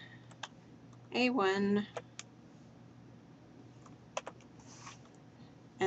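Someone types on a computer keyboard, entering spreadsheet formulas; quick, light key clicks come in short scattered bursts while a person speaks briefly over them in a quiet room.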